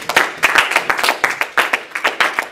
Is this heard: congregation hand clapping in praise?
yes